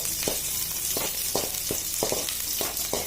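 Onions frying until golden for idli upma, a steady hiss of oil close by with regular spoon strokes scraping the pan about every half second, no talking.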